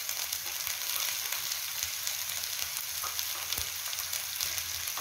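Chickpeas frying in a pan with fried onion for a spicy North Indian chana dish, giving a steady, dense sizzle with faint stirring scrapes, close and continuous, with no talking.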